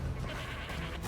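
A goat enemy bleats in Darkest Dungeon 2, a single short, rough, nasal bleat lasting about a second, loud and close with no speech over it.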